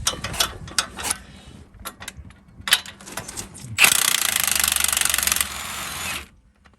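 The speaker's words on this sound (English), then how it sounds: "first thing, Ryan's gonna go ahead and remove the shock" Work on a Jeep Wrangler's shock during a brake line anchor kit install: scattered metallic clicks and clanks, then a loud rattling power-tool burst for about a second and a half that cuts off sharply.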